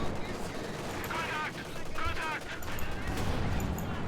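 Gunfire from a StuG assault gun in a Company of Heroes–style strategy game match, a few heavy booms and bursts of shooting amid constant battle noise, under a commentator's voice.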